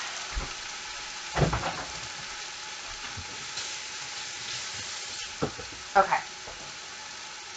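Cabbage and pepper sizzling gently in a pot for cabbage soup, a faint steady fry under occasional clanks of utensils and a brief spoken remark.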